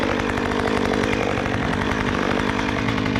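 A Stihl chainsaw saws through a dead tree, its engine a loud, steady, close roar under heavy load with a fast chain rattle throughout and no pauses.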